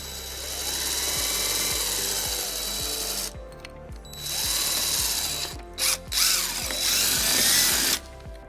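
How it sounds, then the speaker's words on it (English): A power drill with a 3/16 drill bit bores a hole in the bumper of a 2015 Toyota RAV4, whining up in several loud bursts with brief pauses between them, close and without talk. "using a 3/16 drill bit, we're going to drill our first hole."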